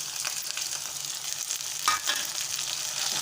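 Steady, close sizzling of thick tomato puree frying in a pan, with a brief stir or scrape near the middle; no voices.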